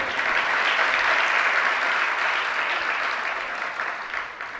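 A crowd applauding during a Jain religious discourse, thick continuous clapping that holds steady and then slowly tapers off near the end, with no voices over it.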